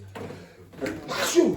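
A single sneeze in a classroom during a language lesson, a short burst partly overlapped by voices, fairly close and moderately loud.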